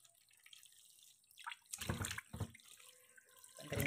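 Fish being rinsed under a running kitchen tap to wash off the fishy smell: near, uneven splashing and gushing that grows louder and surges in bursts as the hands move through the stream.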